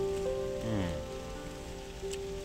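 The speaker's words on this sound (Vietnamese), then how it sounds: "Mưa ác quá các bác này." Heavy rain pours steadily on a fishing trip, a close, dense hiss of drops on surfaces that lasts the whole stretch, with no talking.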